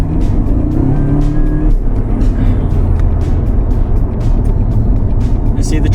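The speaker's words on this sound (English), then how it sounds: "Okay, I'm going to accelerate gradually, smoothly if possible." A Jaguar fitted with a linear throttle kit pulls away gradually on an open road, its engine a loud, steady low drone that builds smoothly without sharp revving.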